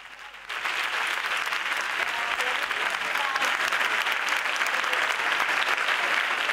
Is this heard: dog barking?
no